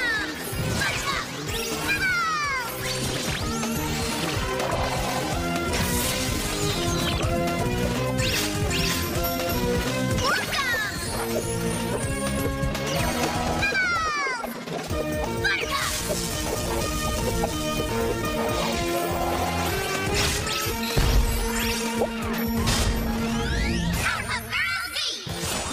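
Repeated crashing smashes of breaking glass in a Powerpuff Girls Z anime cartoon, with whooshing swipes, set against a loud, dense action soundtrack that runs throughout.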